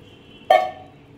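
Water is poured into a pan to start a sugar syrup for a soft sweet, a short splashing burst that rises suddenly, then trails off over a quiet kitchen background.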